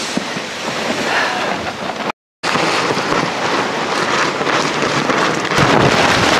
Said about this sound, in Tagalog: Ay, grabe, lakas ng hangin.